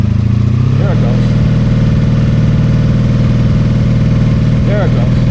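A cold motorcycle engine with the choke on catches and runs at a loud, steady idle close by, its rhythmic low thrum continuing unbroken.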